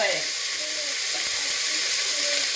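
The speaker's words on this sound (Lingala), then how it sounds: "nazali kobalola nzungu na ngai" Food sizzles in a pot over the heat in a steady, close hiss while it is stirred, with faint scraping through the constant frying.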